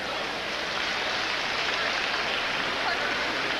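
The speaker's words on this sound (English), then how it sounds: "Let's give both of these fighters a nice round of applause" Audience applause for two boxers after a ten-round fight, a dense, steady wash of clapping filling the hall, loud and continuous throughout.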